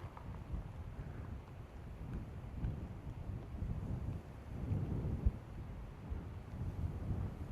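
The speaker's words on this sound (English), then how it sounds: "Got some wind and a breeze." Wind gusting across an open mountain hiking trail, a steady low rumble of buffeting air against the microphone that swells and surges in waves, with no talking.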